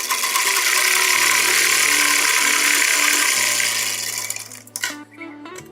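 A sewing machine runs a continuous double stitch along a garment seam, giving a steady mechanical whirr with a rattling hum that cuts off near the end, followed by a few clicks and handling noises.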